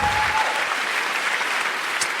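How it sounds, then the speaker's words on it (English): Audience applause for comedians Todd Glass and Dean Crow at a stand-up comedy show, a steady wash of clapping from a crowd that holds at an even level throughout, with no voices over it. "How about another round of applause for Mr. Todd Glass and young Dean Crow?"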